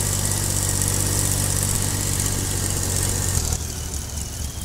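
A Swaraj 855 tractor in Farming Simulator 22 runs in first gear with a steady, loud diesel drone and a low rumble, which drops in pitch and thins out near the end.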